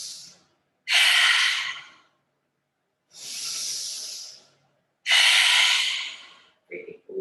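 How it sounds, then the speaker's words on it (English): A deep breath during a yoga exercise comes as several loud, airy breathy rushes, each about a second long, separated by short silences, close to the mic, with a faint voice at the end. "Big deep breath in."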